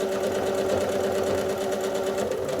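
Sewing machine stitching a free-motion quilted crack maze pattern, a steady fast needle hum with a rhythmic mechanical chatter running without pause, close and fairly loud, with no voices.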